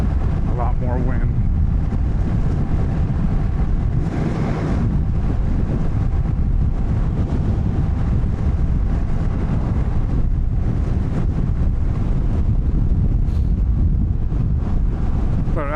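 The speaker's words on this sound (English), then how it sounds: "the wind hits right about where my hand is right now" Heavy wind buffeting a rider on a Honda Rebel 1100 motorcycle cruising at about 41 mph, a loud continuous roaring rush close to the microphone with engine and road rumble underneath.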